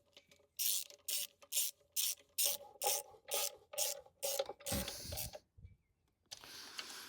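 A ratchet snugs fuel rail bolts on a Renault Clio 172/182, giving about ten evenly spaced, close rasping clicks in a steady rhythm, followed by a brief rustling scrape and a short pause, with no voices.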